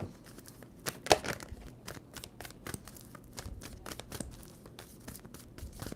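Tarot cards being shuffled at close range, a run of crisp riffling snaps and papery flicks with one louder slap near the start, steady and busy throughout.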